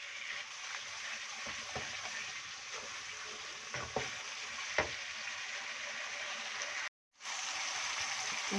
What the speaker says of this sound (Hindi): इसकी करूँगी अच्छे से भुनाई